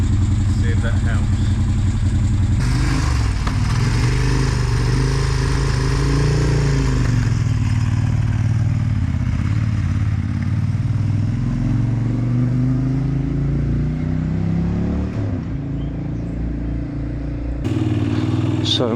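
A Moto Guzzi Griso motorcycle, being brought back to life after sitting, runs at idle close by with a steady, throbbing engine note and some clatter, continuous for the whole stretch.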